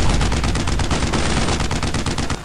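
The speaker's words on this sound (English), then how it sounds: "I'm gonna try shooting at him with the 50 cal when he stands up." Sustained burst of .50 caliber machine gun fire in the World War II shooter Brothers in Arms: Road to Hill 30, loud, close and rapid, with evenly spaced shots running unbroken for a couple of seconds.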